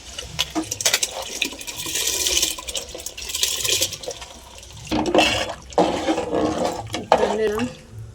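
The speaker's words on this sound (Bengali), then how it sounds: "জলটা ফুটে গেছে, টকবক করে ফুলছে" Soaked biryani rice tipped into a pot of rolling boiling water, giving bursts of splashing and watery rushing with brief pauses between pours, fairly close and moderately loud.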